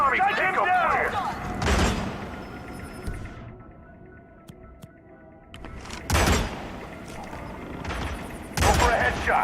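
Gunfire at a target in the Hitman video game: a few sharp loud bursts of shots spaced a few seconds apart, with someone talking excitedly over game noise between them.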